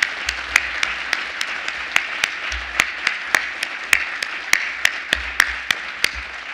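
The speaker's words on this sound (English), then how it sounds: "I think we should have a round of applause to congratulate them on that." Guests at an awards luncheon applaud for honorees; a soft wash of clapping runs under a regular series of sharp, close, evenly spaced claps, likely one person clapping right beside the microphone.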